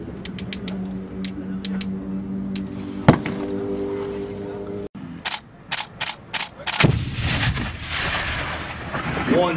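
Hand grenades go off on a live military training range, a sharp distant blast in the middle followed by further thumping bangs and rumbling outdoor noise, with scattered clicks earlier and no talking.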